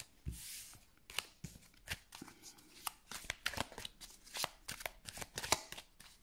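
Tarot cards shuffled and drawn by hand, a close, quiet series of irregular slaps, riffles and sharp flicks with short pauses between bursts, and no talking.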